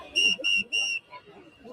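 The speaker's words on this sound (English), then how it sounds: "Oh, they got the whistles. You hear the whistles?" Three sharp, shrill whistle blasts sound in quick succession at a street protest, each about a quarter second long, loud and close, followed by quieter background noise.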